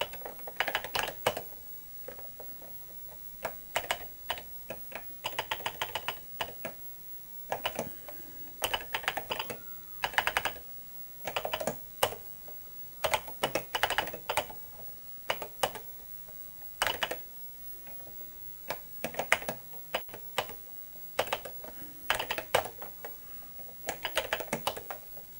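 Rapid bursts of typing on a modern mechanical keyboard built for an Atari 800 retro computer, clattering keystrokes coming in irregular flurries with short pauses, close and fairly loud, with no talking.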